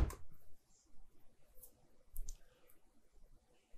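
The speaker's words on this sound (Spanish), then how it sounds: "Vamos a hacer clic acá en Get Funnel" A computer mouse clicks a few times up close, faint sharp taps spaced irregularly over a quiet room background.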